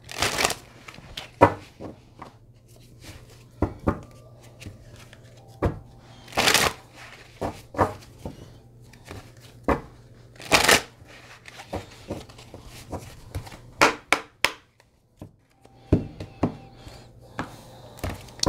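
A Mermaid Tarot deck shuffled by hand, close and clear: repeated riffles, soft slaps and taps in an uneven rhythm over a faint low hum, with no one talking.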